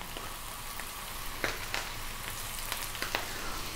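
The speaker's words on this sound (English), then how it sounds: "we're going to grab all of our kale and drop that in above medium heat" Kale sizzles and crackles in a hot pan over medium heat, a soft, even frying hiss dotted with faint pops and small clicks throughout.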